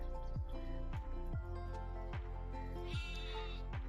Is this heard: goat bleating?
yes